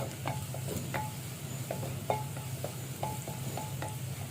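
Chopped onion and garlic fry in a pan for a Rajshahi-style taro-leaf bharta, a steady close sizzle broken by repeated light scrapes and taps of a spatula stirring against the pan.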